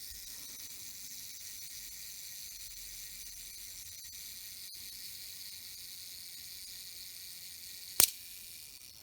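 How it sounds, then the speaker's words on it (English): A faint, steady mechanical buzz of a Synchro-Compur shutter self-timer on a Contaflex IV camera runs for about eight seconds, then a single sharp shutter click. "Let's try the self-timer."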